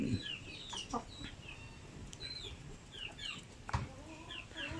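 Basilan native chickens cluck and call in a backyard poultry farm, with several overlapping birds, some near and others farther off, over quiet farm ambience.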